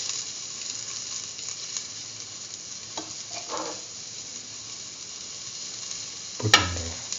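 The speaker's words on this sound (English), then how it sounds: "Put in the shallots, saute the shallots and mix thoroughly." Shallots sauté in a pan with a faint, steady sizzle, broken by a few soft stirring scrapes and one sharper clatter near the end, quiet and close with no talking.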